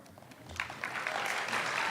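Applause from the audience at a high school spoken word poetry slam, rising and thickening after a quieter start, with some faint voices mixed in.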